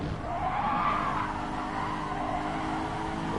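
A race car slides sideways with a sustained tire squeal in a racing video game, the engine droning steadily underneath; loud and continuous throughout, with no talking.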